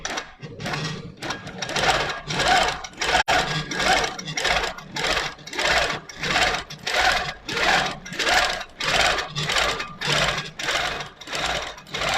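A longarm quilting machine driven by a Pro Stitcher stitches in a steady, rhythmic run of motor whirs and needle pulses, close and loud, repeating about once a second with no voices.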